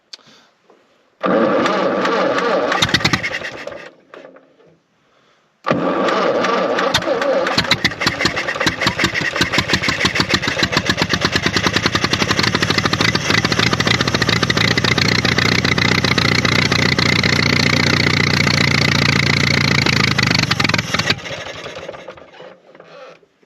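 Fordson E27N tractor engine cranks and catches briefly, stalls, then starts again and settles into a loud, steady, chugging idle for about fifteen seconds before cutting out, heard close up with little talk.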